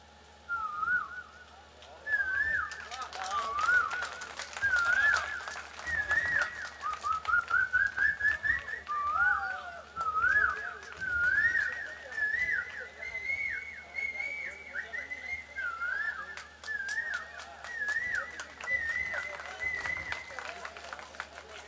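A person whistles a long, warbling imitation of a koel's call, rising and repeating in phrases, with scattered clapping and crowd noise in the background at a comedy poetry gathering.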